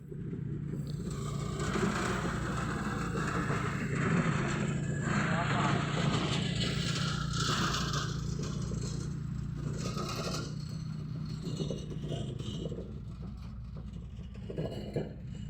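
A strong magnitude 7.3 earthquake makes a continuous low rumble, with objects rattling and clattering throughout about fifteen seconds while people talk.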